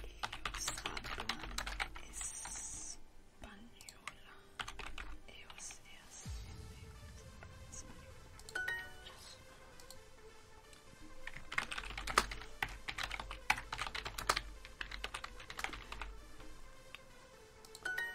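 Fingers tap out rapid, uneven bursts on a computer keyboard with scattered clicks and pauses between runs, fairly quiet and close, with soft murmured speech now and then.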